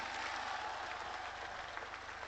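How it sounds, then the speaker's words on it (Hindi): An audience applauds for Panna Dhai at a Karni Sena gathering, with sustained, dense clapping from a crowd, somewhat distant and steady from start to finish. "मां पन्ना धाय के लिए ताली बजाए जरा"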